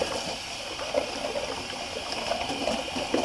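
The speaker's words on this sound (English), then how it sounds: "And just rinse off my brush real quick." A shaving brush rinsed under running tap water gives a steady, close splashing flow that stays even throughout the short stretch, with no voices.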